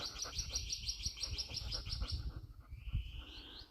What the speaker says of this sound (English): Those cuckoos love ridge tops. The place is loaded with them up here.